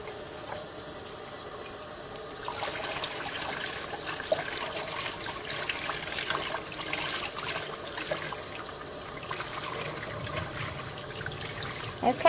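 Cool tap water runs steadily while a wig is rinsed, a soft continuous splashing and trickling with faint handling noises throughout.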